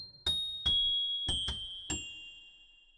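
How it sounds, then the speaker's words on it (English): Five bright metallic glockenspiel notes from a Keysuite piano and keys software patch strike one after another at an even, unhurried pace, each ringing with a clear shimmering tail that lingers and fades after the last hit. "Let's do the Glockenspiel so you can really sense."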